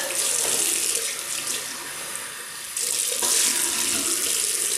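Warm tap water runs steadily into a sink with a broad hissing splash, close by and fairly loud, briefly softening before surging again.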